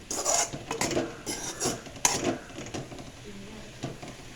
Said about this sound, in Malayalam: നമ്മൾ ഇളക്കാൻ പോകുന്നു. നന്നായിട്ട് ഇളക്കി കൊടുക്കണം.